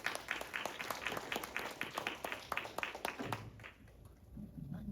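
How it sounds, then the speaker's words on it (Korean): A seminar audience applauds to welcome a speaker at an international event on North Korean women's and children's health rights: dense, steady clapping from a crowd for about three seconds, then fading into room murmur. "큰 박수로 모시도록 하겠습니다."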